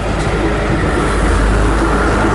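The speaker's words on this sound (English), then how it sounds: "you see the ice train pulling out of Cologne" An ICE high-speed train pulling out of Cologne, a steady loud low rumble of rolling wheels and rail noise continuing throughout, close by, with no voices.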